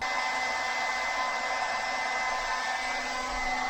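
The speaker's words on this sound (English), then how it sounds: "So I'll plug in Wendy's hairdryer." A hair dryer runs steadily inside a van on a solar power system, a loud continuous whooshing hum with a high whine, unchanging throughout with no talking.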